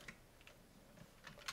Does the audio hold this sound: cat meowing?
no